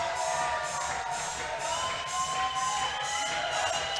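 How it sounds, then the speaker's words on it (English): A big indoor crowd cheers and shouts at a bouldering competition, sustained whooping and yelling with rising and falling waves, heard from within the room. "In a big crowd like this, you love to hear that noise in the room."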